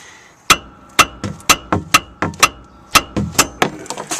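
Repeated hammer blows ring out against a Dana 70 dually rear brake drum on a 1978 Dodge RV, about a dozen sharp metallic clanks in a steady, slightly uneven rhythm, loud and close with no talking.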